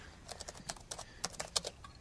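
Faint, irregular clicks of someone typing on a computer keyboard in a quiet room, with quick bursts of keystrokes and no voices.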